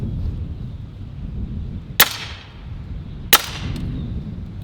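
Two sharp cracks from a Western Sidewinder S .30 caliber air rifle firing first a slug, then a pellet into a 2x4, spaced about a second and a half apart over steady low background rumble.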